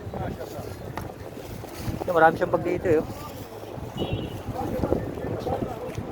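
Gusts of wind buffet the microphone outdoors while people talk nearby, the rushing noise rising and falling under their voices.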